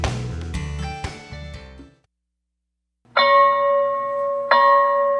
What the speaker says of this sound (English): The ringing school bell